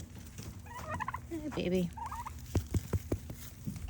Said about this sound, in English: My turkeys are always following me.